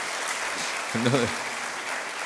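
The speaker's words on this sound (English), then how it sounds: "I think you could clap for that" An audience applauds women's leadership in a steady hiss of clapping that fills the hall throughout, while someone speaks briefly over it.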